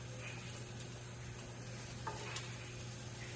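Two slices of bacon fry in a pan with little rendered fat, giving a low, steady sizzle with a constant hum beneath and a couple of faint clicks.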